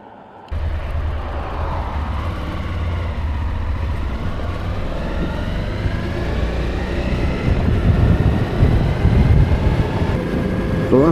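A Suzuki V-Strom DL1000 motorcycle on a ride across moorland gives a steady engine drone mixed with heavy wind rush that builds gradually as it speeds up.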